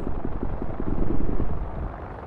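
A helicopter in the video game ArmA 2 drones with a steady, loud rotor thump and broad engine roar, close and continuous throughout.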